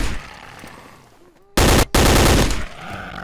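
Garry's Mod addon weapons fire in two loud, sharp bursts of rapid automatic shots after a quieter lead-in, close and harsh, the second burst longer than the first.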